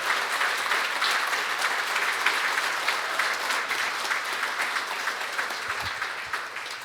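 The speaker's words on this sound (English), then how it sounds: "Let's give them a round of applause." Sustained applause from a crowd at a State of the City address, steady and dense clapping that holds at an even level throughout before tapering slightly at the end.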